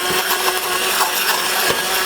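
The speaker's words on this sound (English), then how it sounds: "We're going to take an immersion blender here." An immersion blender whirs loudly and continuously at close range, grinding carrots and onions for lobster bisque, its harsh motor buzz steady with slight fluctuations as it churns.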